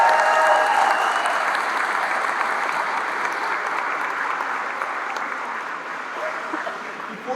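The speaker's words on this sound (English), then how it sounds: "Let's give our students one more big round of applause." Audience applauding graduating fifth-grade students at a school promotion ceremony, a steady, dense round of clapping that carries on for several seconds and tapers slightly at the end.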